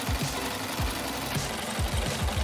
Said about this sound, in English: Remember that we should make stitches on the inner side of the fabric.